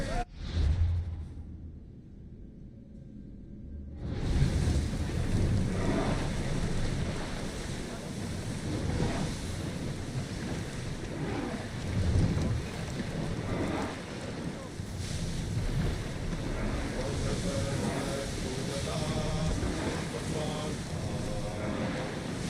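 A sailing ship at sea in Assassin's Creed Odyssey, with a steady wash of waves and wind rushing around the hull, and voices calling out over the constant roar.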